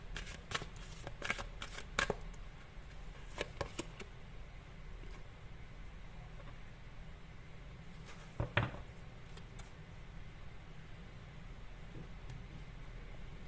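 A tarot card deck is shuffled in bursts of crisp riffling and flicking, clustered early and again midway, with quiet room noise between and no talking.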